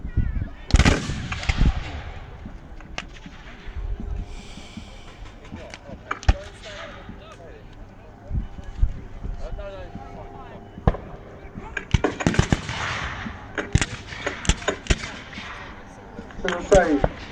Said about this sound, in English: the Union are just taking some shots, partly to get their own back on any Confederate shells that have killed or injured their comrades